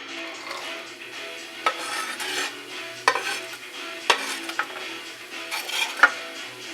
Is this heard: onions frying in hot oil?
yes